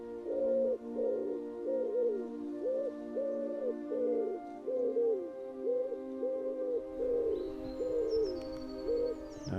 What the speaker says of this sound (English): Now in the background you can hear the call of the wood pigeon.